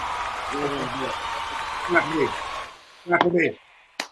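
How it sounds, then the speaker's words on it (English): Audience applause, a broad wash of clapping that holds steady and then cuts off abruptly, with a voice talking over it and a few short bursts of voice after it stops. "then we're going to clap for me"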